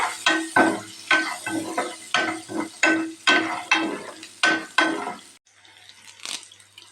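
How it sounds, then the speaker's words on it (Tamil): Garlic, shallots and green chillies frying in a pan while being stirred, a loud rhythmic series of scraping strokes over steady sizzling, then quieter sizzle at the end. "இதை நல்லா மிக்ஸ் பண்ணிக்கலாங்க"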